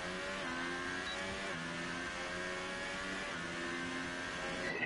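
The engine of a McLaren Formula 1 car in the racing game F1 2018 holds a steady, buzzing high-revving whine with slight pitch shifts, continuous and fairly close throughout.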